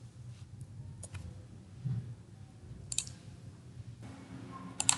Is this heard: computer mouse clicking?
yes